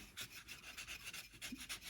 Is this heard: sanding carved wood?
yes